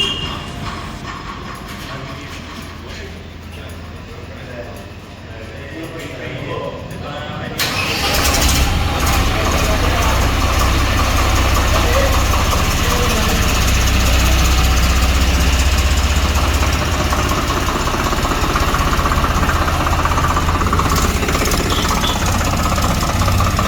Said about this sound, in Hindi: अब इस ट्रैक्टर का पावर स्टीयरिंग एंड इस ट्रैक्टर की आपको वॉइस मैं सुना देता हूँ।